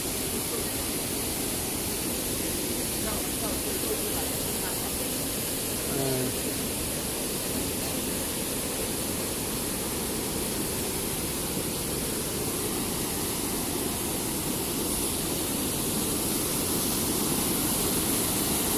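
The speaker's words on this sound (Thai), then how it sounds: "อันนี้น้ำตกตัดกวงซีเด้อ" Tat Kuang Si waterfall in Laos roars with a steady, broad rush of falling water that holds an even loudness throughout, and a voice is faintly heard briefly partway through.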